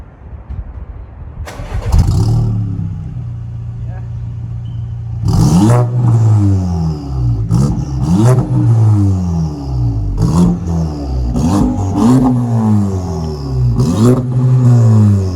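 An Audi A5 2.0T with a Powerflow catback quad exhaust starts warm, then revs repeatedly in sharp bursts that fall back to a steady idle, loud and close with no talking.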